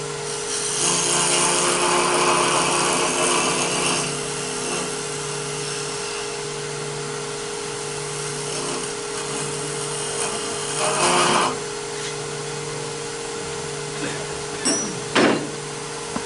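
Negative rake scraper working the inside of a squarish wooden bowl on a lathe: a steady motor hum with scraping bursts at the start and again around eleven seconds, brief knocks near the end.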